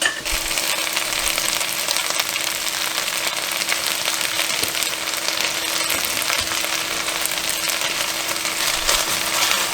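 Sausage, onions and potatoes cooking in a single pot over medium heat, a steady dense sizzle with occasional stirring scrapes, loud and close with no talk.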